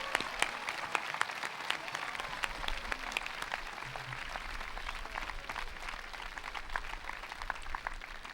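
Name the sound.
graduation audience applauding scholarship recipients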